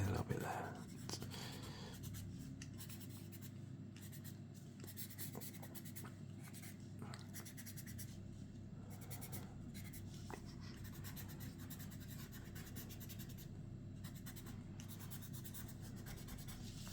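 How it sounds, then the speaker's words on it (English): Pencil scratching and rubbing on paper while shading a sky, a soft continuous close-up scraping with a few sharper strokes, under a low quiet background hum. "Really struggling with this pencil now."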